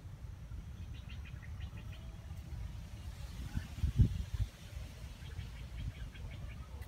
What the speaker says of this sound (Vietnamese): còn con đầu đàn nó hót, mấy con này nó dí nó đá mà con này nó hót dữ thiệt